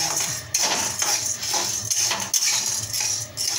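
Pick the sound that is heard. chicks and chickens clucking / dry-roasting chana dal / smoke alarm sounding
dry-roasting chana dal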